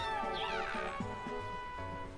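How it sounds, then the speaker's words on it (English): A domestic cat meows nearby in a room, a drawn-out meow with rising and falling pitch followed by shorter calls, over faint background game sound. "There's a cat by me again."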